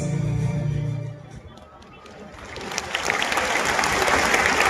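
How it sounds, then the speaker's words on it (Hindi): Loud applause from a large crowd at the Prayagraj Mahakumbh 2025 event swells up after a quieter moment and continues as a dense, sustained roar of clapping. "बहुत जोरदार तालियों के बाद"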